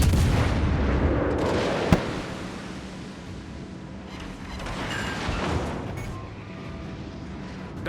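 Naval gunfire from another warship in a naval battle game booms out, with a sharp report followed by rolling, rumbling blasts and a later swelling roar, heavy and loud over a washing sea-like background.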